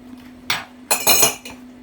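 Butter beans in tomato sauce stirred in a pot, giving a few brief metallic clinks and scrapes of a utensil against the pot, two or three short bursts in quick succession.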